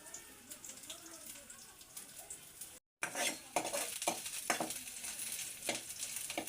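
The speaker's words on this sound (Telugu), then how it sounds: "ఇప్పుడైతే ఒక 2 మిరపకాయలు ఎండిపోయినవి వేసుకుందాం మనం." Two dried red chillies dropped into a hot pan, a quiet crackle that breaks off briefly, then returns as a louder, busier sizzle with scraping stirs.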